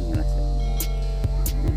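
A Rinnai Dragon Burner gas stove burning after being lit gives off a steady low roaring hum, punctuated by a few soft clicks and thumps.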